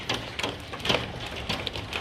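Heavy rain mixed with large hailstones strikes a window, a dense steady patter broken by sharper scattered impacts, close and fairly faint with no talk over it.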